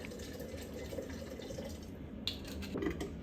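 Water and spirit pouring steadily into a jar, a continuous watery rush with faint drips, close and fairly quiet.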